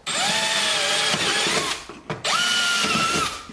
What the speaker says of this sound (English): we're going to go ahead and drill these 2 smaller holes